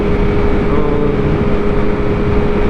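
A motorcycle with an M4 Moto GP shorty exhaust cruising on the highway, a loud, steady engine drone mixed with wind rush and no change in pitch.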